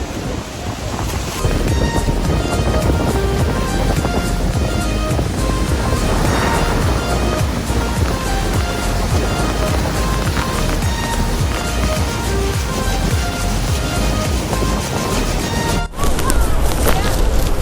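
Heavy, continuous roar of water at Niagara Falls, heard from a boat close to the falls, with wind buffeting the microphone and a brief dip near the end.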